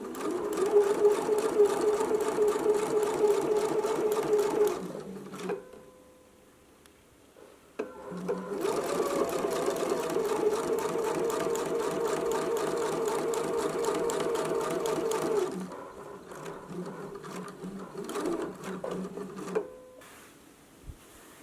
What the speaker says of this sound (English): now we can go to the sewing machine